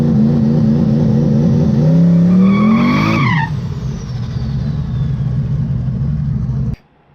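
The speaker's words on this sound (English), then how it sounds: "the worst burnout you've probably ever seen in your life" A car engine revs up to a high whine and its tires squeal in a brief burnout at TX2K, then the engine idles roughly before stalling abruptly.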